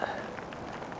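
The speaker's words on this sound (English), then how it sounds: "it's raining." Steady patter of rain falling on a canyon hiking trail, a dense hiss of drops with a few brighter splats, fairly close and continuous throughout.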